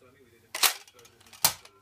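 Two sharp, snappy shots from a toy Nerf gun firing foam bullets, evenly spaced about a second apart, close and fairly loud against a quiet background.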